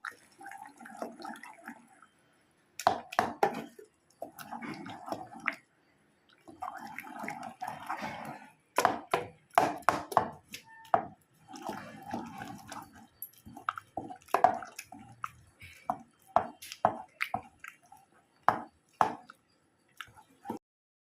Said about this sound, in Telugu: ఇప్పుడు దించేసుకొని మెదుపుకోవాలండి